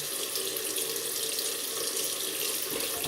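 Water runs from a tap in a steady, bright hiss during shaving with a Gillette B1 double-edge razor and Erasmic shaving cream, close and uninterrupted for about three seconds.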